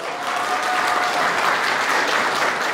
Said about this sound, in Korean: 다 같이 뒤쪽을 바라보시게 되면 우리 신부님 너무 아름다우시죠? 큰 박수 부탁드리겠습니다